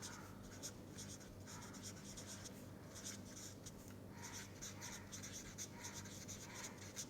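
Chalk or pen writing out eigenvalues in a lecture hall, heard as a series of faint scratchy strokes in uneven bursts over quiet room tone, with no talk.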